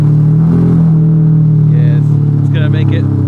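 A Ferrari 599GTX with an F1 transmission idles loud and close while reversing slowly into a garage, a steady deep rumble with faint squeaks near the end.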